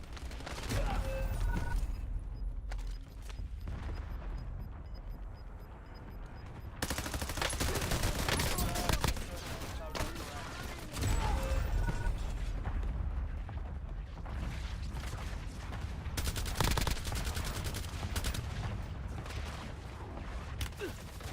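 Video game gunfire rattles in heavy, sustained bursts with booming impacts, broken by a brief lull before the barrage resumes, loud and close throughout.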